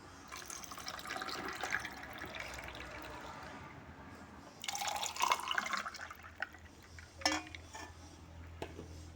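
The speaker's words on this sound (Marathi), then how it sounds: "लास्टमध्ये बर्फाचे खडे टाकायचे आणि त्याच्यावरती हा सरबत ओतायचा" Bael fruit sharbat is poured into a glass over ice cubes, giving close liquid splashing and trickling with clinks of ice and glass, in several bursts separated by short pauses and with no talking.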